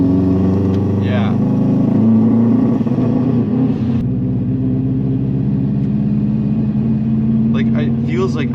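A Subaru WRX engine struggling while driving under load, a loud, steady droning hum inside the car, with people talking over it.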